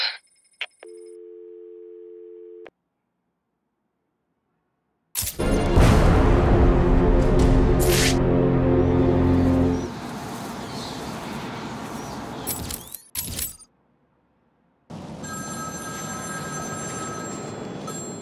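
Telephone ringing in Batman Arkham City: a short electronic tone burst, then a loud, broad ringing passage lasting several seconds, followed by a steadier tonal ring after a brief gap.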